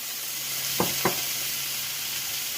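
Wine sizzles and evaporates in a hot stir-fry pan of shrimp and vegetables, a steady close hiss broken by two short clinks or stirs.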